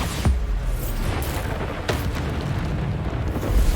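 A Bombarda blasting spell in Hogwarts Legacy: a sharp explosive boom near the start, then another blast, with rumbling battle noise in between and a loud burst at the end.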